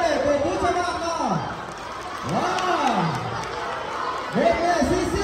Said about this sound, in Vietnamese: các bạn hãy chúng mình hãy vỗ tay thật to để cổ vũ cho bạn nào.